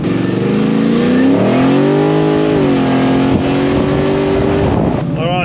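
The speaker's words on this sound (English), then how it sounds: "It's got an LS3 crate motor, all cammed up." A 1972 Holden HQ SS with a heavily cammed LS3 crate engine and turbo 400 gearbox revs loud and close, its throaty rumble swelling in pitch, holding, then easing back to a lumpy idle.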